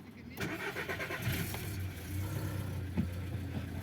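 A car engine with its LPG supply shut off cranks and catches first time in 2°C cold, then settles into a steady low idle, close by, with faint rattles and a few soft knocks.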